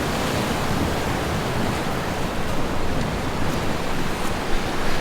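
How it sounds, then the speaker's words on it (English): Ocean surf at Laguna Beach, California, splashing over rocks near a tower on the shore: a steady, loud broadband wash of breaking waves with no pauses, mixed with some wind noise on the microphone. "Sometimes the waves are coming here and just splashing over."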